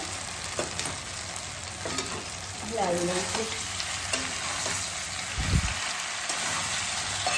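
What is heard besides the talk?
stirring dhokla into crackled mustard seed tempering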